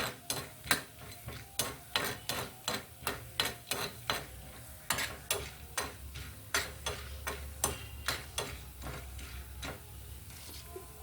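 Ingredients pounded coarsely in a stone mortar for an okra and tamarind stew: steady, sharp thuds about two or three per second, close and loud, with no talking.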